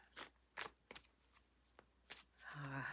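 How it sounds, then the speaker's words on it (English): Playing cards are shuffled nearby in several quick, crisp riffling bursts separated by short pauses, followed by a faint voice at the end. "here I'm shuffling my cards"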